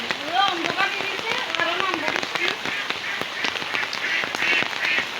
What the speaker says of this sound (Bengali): প্রচণ্ড বৃষ্টি হয়ে গেল বন্ধুরা সকাল সকালবেলায়